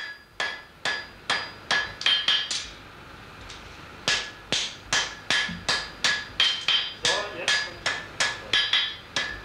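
A blacksmith's hammer strikes red-hot iron while forging a shoe for a working cow, sharp ringing metallic blows falling in a steady, loud rhythm, roughly two to three per second, with brief pauses.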